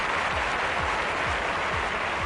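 Large stadium crowd at an athletics 200 metres race in the London 2012 video game, a steady dense roar of applause and cheering filling the whole clip at constant loudness, with no talk over it.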